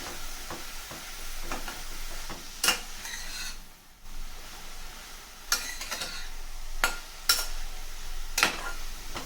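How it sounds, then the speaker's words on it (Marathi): Grated beetroot is stirred in a pan over a low flame for halwa, with a soft continuous sizzle broken by several sharp scrapes and clinks of the spatula against the pan. "गॅसचा फ्लेम लो करूनच आपल्याला हे बीट जो आहे तो परतून घ्यायचा आहे"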